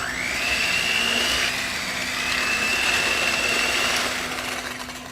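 An electric mixer whirs steadily through lemon ricotta cookie dough, a continuous close motor drone with a high whine that dips briefly mid-run before settling back to an even hum.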